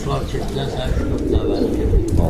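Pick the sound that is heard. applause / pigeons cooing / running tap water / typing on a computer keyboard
pigeons cooing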